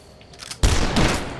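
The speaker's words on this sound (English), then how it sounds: "I found a secret, which is a super shotgun, which does shoot 2 rounds at once" A super shotgun in the retro first-person shooter Dusk fires one booming double-barrel blast, loud and sudden, with a brief rumbling tail after a quiet lead-in.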